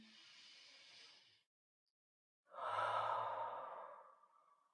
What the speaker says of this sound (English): we put our hands over our chest, and we take a good deep breath